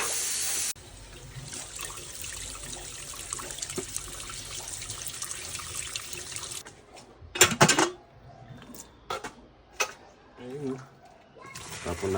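Tap water runs steadily into a sink for several seconds while washing water buffalo face meat, then stops, followed by splashing, clattering and brief handling sounds nearby.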